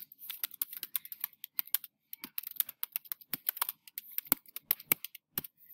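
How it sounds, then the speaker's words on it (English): Rapid, uneven keystrokes on a computer keyboard as a first essay paragraph is typed, bursts of clicks with brief pauses, close and fairly quiet with no voices. "So then you begin to type your first paragraph."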